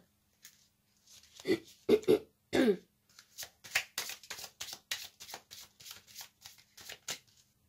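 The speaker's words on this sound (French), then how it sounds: "je vais tirer une carte de l'oracle aromatique" Oracle cards from an aromatic deck are shuffled close up: a few loud riffling bursts, then a run of quick, even card flicks and snaps in a quiet room.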